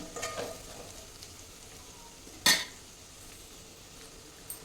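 A spoon stirs chilli powder and spices in a frying pan, giving a faint sizzle with soft scraping and one sharp metallic clink near the middle.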